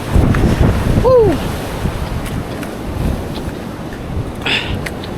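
Strong wind roars and buffets the microphone over crashing surf while lure fishing, with a brief whistle-like tone early on.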